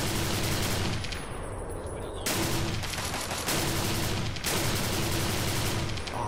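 Gunfire from a very powerful weapon in the modded video game Fallout 3 crackles in loud, dense bursts with brief gaps between volleys, close and harsh across the whole stretch.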